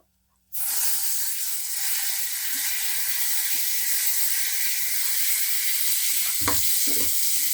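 A loud sizzle bursts out suddenly as chopped tomatoes hit a hot pan, then keeps up a steady hiss, with a couple of utensil knocks near the end.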